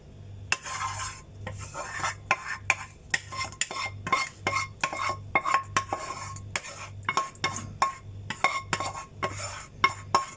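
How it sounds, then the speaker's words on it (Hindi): Rice being spread in a pot and leftover gravy poured over it for malai chicken seekh biryani, heard as steady metal clinks and scraping of a spoon against the pot, repeated in a busy rhythm, close and fairly loud with no talk. "अब ये बचा हुआ ग्रेवी इसके ऊपर डाल देंगे।"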